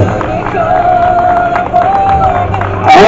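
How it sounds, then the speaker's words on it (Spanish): Spectators at the Rueda 2015 cycling race finish line cheer and clap as riders arrive, crowd noise with whoops under a loudspeaker announcer's voice, swelling louder at the end. "Vamos a ver Rueda, ese aplauso fuerte para todos ellos."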